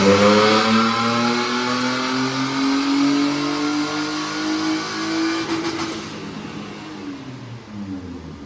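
A turbocharged VQ35 engine revs hard on a dyno, a loud sustained rising drone with climbing harmonics that peaks and then winds down near the end.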